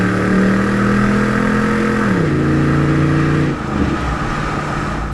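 A 1997 Pontiac Firehawk with a 5.7 V8 and an automatic transmission accelerates hard, giving a loud rising engine drone that drops as the gear shifts and then climbs again, heard from inside the car with no talk.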